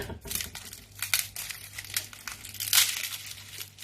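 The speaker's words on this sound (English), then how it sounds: "So now I'm also going to cut the garlic and also peel it like the way I also peel the onion." Garlic cloves being peeled by hand, close crisp crinkling and tearing of papery skins in quick irregular bursts, alone and without talk.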